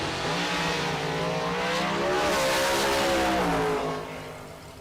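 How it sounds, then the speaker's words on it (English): A 1957 Chevrolet Bel Air drag car makes a solo pass at the strip, its engine loud and close with a sustained, shifting roar that swells mid-run and then fades away. "Chris Estrick going to take the solo into round number 3 in 460. The 57 Bel Air out of San Bruno."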